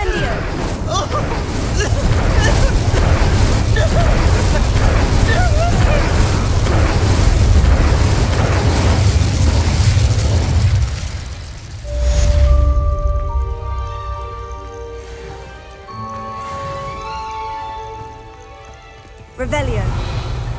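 Confringo and Incendio spells exploding in Hogwarts Legacy, a long run of loud, rumbling blasts and fiery roaring that thins out midway into scattered pops and lighter effects, with talk heard over parts of it.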